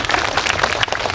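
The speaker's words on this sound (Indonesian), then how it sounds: "Tepuk tangan dulu Pak Bupati." A crowd of listeners breaks into applause for the regent at a humorous Bugis religious sermon, a dense, steady wash of many hands clapping at once with no gaps.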